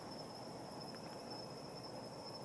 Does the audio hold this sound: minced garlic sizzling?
no